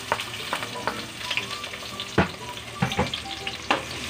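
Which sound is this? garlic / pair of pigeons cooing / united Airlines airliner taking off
garlic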